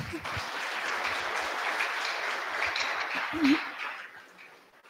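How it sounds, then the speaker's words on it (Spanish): Sustained audience applause at a tribute ceremony for Dr. Ricardo Falla and Dr. Demetrio Cojtí Cuxil marking indigenous peoples' day, a steady crowd clapping for about four seconds that swells briefly and then fades out. "entonces démonos un fuerte aplauso"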